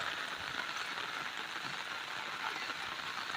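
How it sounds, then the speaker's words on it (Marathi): Heavy rain pours steadily in a steady dense broadband wash, continuous and loud with no breaks, close by, where water has flooded up over a bridge; no voices are heard. "तिथे जाम धो पाऊस पडलाय बघा"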